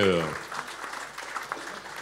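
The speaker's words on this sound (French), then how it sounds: "Vous pouvez applaudir mes intervenants." Conference audience gives modest applause for the panel speakers at a talk on digital media, starting just after a voice and continuing as scattered, moderately quiet clapping in a room.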